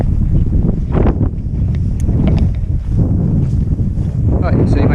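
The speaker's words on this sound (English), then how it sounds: "you may be able to hear the wind has picked up a little bit" Wind gusts over a remote coastal bothy with a rough, blustery rush that buffets the microphone, and a person talks over it.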